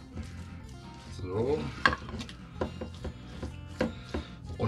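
Sliced meat being stirred and mixed with spices by hand for a geschnetzeltes in onion white wine sauce, giving a run of close, uneven clicking and squelching scrapes with a few sharper knocks, with no talk.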